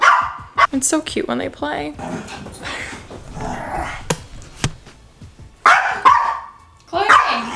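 Two pet dogs bark playfully at home, one with a sharp, piercing bark and the other gruffer and angry-sounding, in loud repeated bursts close by, mixed with someone talking over them.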